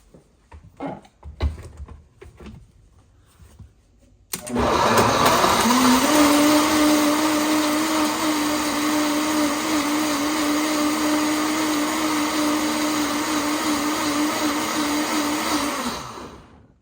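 A kitchen blender whirs loudly and steadily for about twelve seconds, blending a spice-seasoned mixture, after a few soft clicks and handling sounds beforehand; the motor holds a constant pitch until it stops abruptly.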